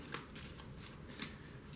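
Star Trek CCG artifact cards being shuffled by hand, a steady run of soft riffling and slapping bursts repeating close up, with no talking over it.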